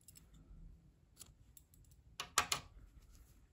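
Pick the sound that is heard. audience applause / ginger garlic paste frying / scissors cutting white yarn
scissors cutting white yarn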